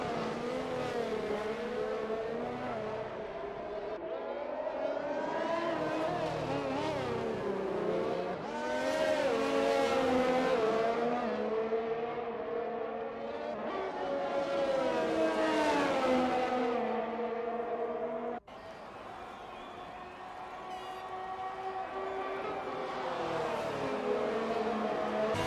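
Race cars on the Singapore Grand Prix circuit in a racing game, engines whining and revving continuously as they accelerate and shift, with a brief cut partway through, loud and steady throughout.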